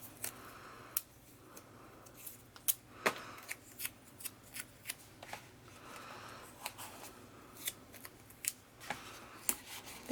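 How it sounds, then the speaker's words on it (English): Washi tape being handled during a paper craft project, with scattered sharp snips, crinkles and light taps at close range, spaced irregularly over a quiet background. "I'm just going to use my washi tape"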